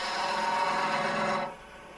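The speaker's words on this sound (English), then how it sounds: "I will take a small slice off of this end with the skew" A skew chisel slices a thin shaving off the end of a spinning wooden box on a lathe, a steady close rasping scrape that stops abruptly, leaving only the quieter whir of the lathe.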